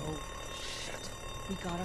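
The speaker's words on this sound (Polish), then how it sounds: "Oh, Alarm?" An alarm clock rings inside The Walking Dead video game, a steady electronic ringing carried under in-game speech and background sound throughout.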